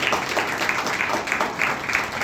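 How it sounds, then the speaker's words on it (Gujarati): An audience at a children's devotional school session claps for a child's performance, a dense, steady wash of applause held at even loudness throughout, with no single voice standing out. "એના માટે આપણે સર્વ વૈષ્ણવજનોએ આ બાળક માટે તાળીઓ પાડવી."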